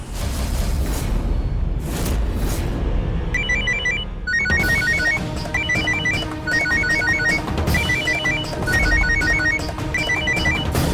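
A mobile phone ringtone plays a repeating electronic melody of bright chiming notes in short bursts, loud and close, with a dramatic musical swell beneath.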